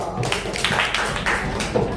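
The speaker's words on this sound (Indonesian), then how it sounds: "Kasih tepuk tangan untuk kelompok 2." A class claps for a presenting group in a classroom. A short burst of scattered, uneven hand claps from a small group sounds close by, with a voice mixed in.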